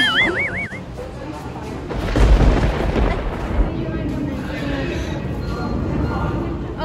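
Loud thunder rumbles deep and broad for several seconds, swelling into a heavy crash midway before settling into a lingering roll, with a tonal warble briefly at the start.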